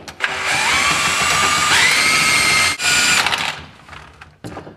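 A power drill spinning a drain snake in a clogged kitchen sink whirs loudly at high speed, its pitch rising partway through, then cuts out and gives a brief final burst.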